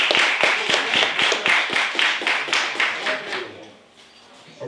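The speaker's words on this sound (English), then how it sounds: "big round of applause for our brother, David, beloved" Audience welcoming a speaker at a presentation, a group clapping in a strong, nearly unified rhythmic beat, loud and close, then fading out toward the end with faint voices.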